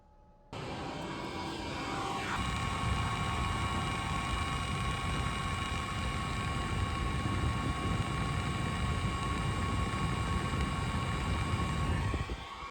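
An xTool inline fan at max power alongside the stock fan starts up abruptly and then holds a loud, steady whooshing roar with faint tonal whine, before cutting off at the end.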